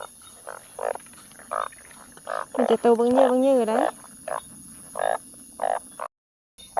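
Frogs croak in the rain, a steady series of short rhythmic calls close by, with one longer warbling croak in the middle while a voice speaks softly over them.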